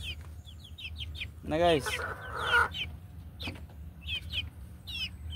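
Young pullets around one to four months old cluck and chirp in short bursts, joined by a rooster's loud crow partway through, while someone briefly speaks.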